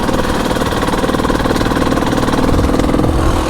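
Husqvarna TE300i dirt bike engine running steadily on an icy morning, a continuous mid-pitched two-stroke drone with a dense pulsing throb, loud and close throughout with no talk.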